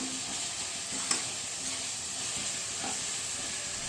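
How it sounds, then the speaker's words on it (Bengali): Spices, onion and tomato sizzle in oil in a pan while being stirred, a steady close frying hiss with occasional soft scrapes and a brief clink, no talking. "1 মিনিটের মতো আমি এটা খুব ভালোভাবে এটার সঙ্গে মিশিয়ে নিচ্ছি"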